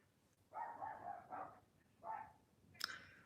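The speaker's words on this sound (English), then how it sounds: "I can't stand the barking." Several dogs bark indoors in a few bursts of two or three barks each, followed by a sharper, higher yelp at the end; moderately loud and close, with no talking over them.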